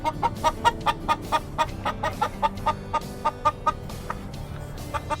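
Chickens cluck outdoors in over 6 inches of snow in a steady series of short, close calls with brief pauses, sometimes overlapping, over a low background rumble and with no talking.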